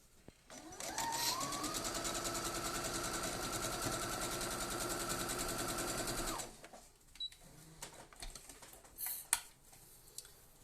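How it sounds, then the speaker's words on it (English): A sewing machine stitches a spinning top quilt block, running in one steady continuous whir for about six seconds, then stopping, followed by quiet fabric handling and small clicks. "I'm just going to stitch that down"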